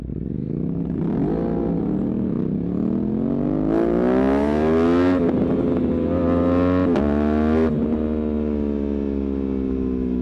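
An RS660 motorcycle rides through Belgrade streets at night, its engine droning loudly and close throughout, revving up in rising sweeps with brief dips between gear changes.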